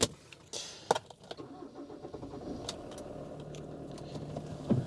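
Kia Sportage diesel with 105,000 miles starting up, a quiet cabin clunk and click, then the engine catching and settling into a low, steady idle.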